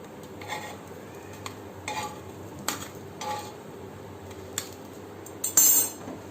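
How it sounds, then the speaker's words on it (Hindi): Fried bread cigar rolls being lifted from a pan onto a plate, with several light clinks and scrapes of a utensil against metal and crockery over a faint background sizzle. "अब इसे हम प्लेट में निकाल लेंगे। अब मैं इसे अपने प्लेट में निकाल लूँगी।"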